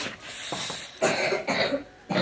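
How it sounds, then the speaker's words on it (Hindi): A woman coughs in a series of short, harsh bursts close by in a quiet home, three or four separate coughs spaced irregularly. "देख देख देख खांसन लग गया"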